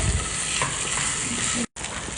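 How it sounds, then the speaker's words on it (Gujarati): Urad dal fries golden brown in hot oil as chopped onion goes in for an aloo paratha filling, producing a loud, dense, close sizzle that runs continuously, broken only by a brief cut near the end. "તમે જોઈ રહ્યા છો કે આમાં અડદની દાળ ગોલ્ડન બ્રાઉન થઈ ગઈ છે, તો હવે આપણે ડુંગળી એડ કરી દઈએ."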